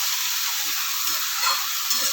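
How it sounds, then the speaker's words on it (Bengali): Kalmi greens lightly frying and being stirred in a hot pan, a steady close sizzle with soft scraping movements throughout, no voices. "নাড়া দেবো, হালকা একটু ভেজে নেবো শাকটা"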